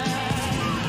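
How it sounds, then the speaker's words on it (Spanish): Goat bleats from the Goat Simulator video game trailer, a sustained wavering animal cry heard alone and fairly loud over a dense game soundtrack. "La cabra."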